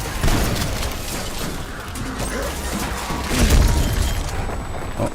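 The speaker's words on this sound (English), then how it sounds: "Oh, there's one big explosion." Loud booming explosions in the Outbreak Zombies video game, a dense rumbling crash with repeated bursts and a heavier blast near the end.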